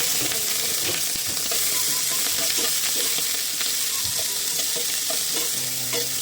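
Onion and garlic sauté in a pan for ginataang bangus, a steady close sizzle with intermittent scraping stirs and small clinks throughout, no voices.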